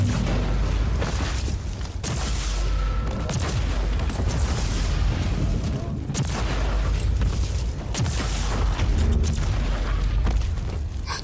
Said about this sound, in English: Headshot one guy, everybody explodes